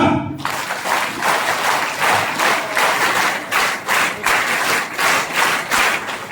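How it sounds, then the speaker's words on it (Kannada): Sustained, loud applause from a large crowd at a public ceremony, dense clapping swelling in steady waves throughout with no break. "ಗೌರವದಿಂದ ಗೌರವಿಸೋಣ ಚಪ್ಪಾಳೆ"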